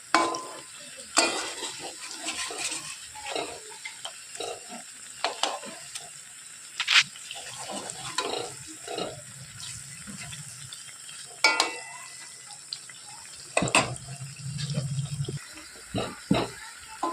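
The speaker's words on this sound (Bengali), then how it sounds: "বড়াগুলো দিয়ে দিয়েছি আস্তে আস্তে সুন্দর করে বাদামি করে ভেজে তুলে নেব" Pointed gourd fritters frying in oil, a soft sizzle under repeated scrapes and knocks of a utensil turning them, with a brief low hum late on; no talking.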